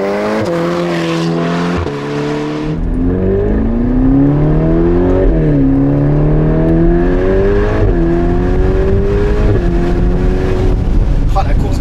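A red Ferrari Portofino sports car engine pulls through the gears, the loud rising whine climbing and dropping with each shift, heard from inside the car with people talking over it.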